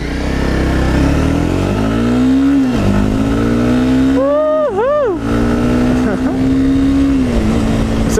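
A 2015 Honda CBR 300R motorcycle at full throttle, engine note climbing steadily and loudly, dipping briefly at a gear change before rising again, close and prominent.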